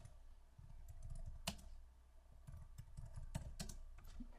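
Someone types a file name on a computer keyboard, a quiet, close patter of keystrokes in short bursts with a few sharper, louder key clicks, and no talking.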